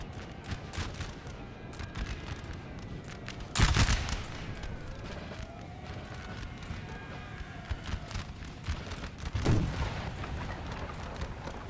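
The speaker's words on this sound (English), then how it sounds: "What's this artillery even firing at?" Artillery and musket fire in the video game Napoleon Total War, with two heavy booming blasts standing out against a constant rumble of distant battle and scattered shots. Someone talks quietly under the din.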